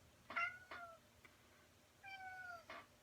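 A cat meows twice, each a short pair of rising-and-falling cries, faint and somewhat distant against quiet background hiss.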